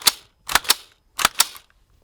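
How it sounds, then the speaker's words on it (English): A patrol rifle's charging handle is racked three times, giving sharp metallic clacks in close pairs: a single snap, then two paired rack-and-release sounds, loud and close with no talk. "You're going to charge the handle, charge the weapon system 3 times,"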